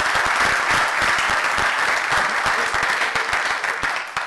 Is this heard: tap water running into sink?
no